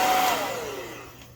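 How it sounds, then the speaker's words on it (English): A hair dryer on medium heat whirs with a steady airy roar that gradually winds down and fades away. "I'm going to help it along with my hair dryer,"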